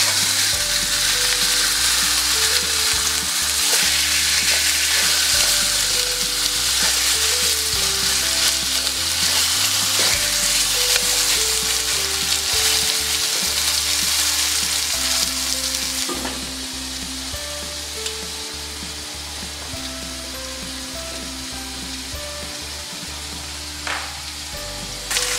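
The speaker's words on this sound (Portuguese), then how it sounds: "Então agora eu vou virar do outro lado para fritar também." A pork chop fries in a pan, a steady loud sizzle that runs without pause, with faint clinks of turning the meat, and the sound eases a little partway through.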